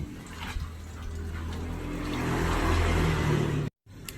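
Steady rushing water pours and drains continuously from an ion-exchange resin water treatment tank after regeneration, with a low churning undertone, then cuts off abruptly near the end.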